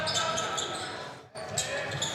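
A basketball bounces repeatedly on a gym court during a high school game between Ludington and Whitehall, the dribbles sounding under crowd noise and a commentator's voice, with a brief lull midway.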